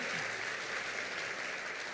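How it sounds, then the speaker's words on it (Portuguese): A church congregation at a prayer service gives steady, dense applause, a brief and continuous wash of clapping. "Você pode dar um aplauso a Ele?"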